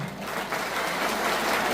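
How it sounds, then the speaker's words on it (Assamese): Applause from an audience fills the air, a dense, steady patter of many hands clapping at moderate loudness throughout. "আপোনালোকৰ নিজৰ কাৰণে এটা হাত চাপৰি বজাবলৈ অনুৰোধ জনালো"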